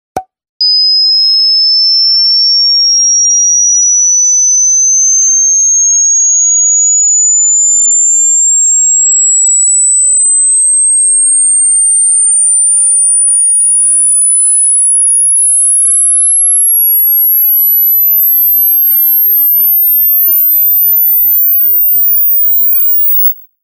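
A steady pure sine test tone for an online hearing test sweeps upward continuously from mid-high pitch to the top of the audible range over about twenty-three seconds, loud and alone.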